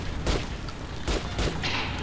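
Gunfire in the video game Metro Last Light: three short broadband bursts roughly half a second apart, loud and close, over a steady game background hum with no talking.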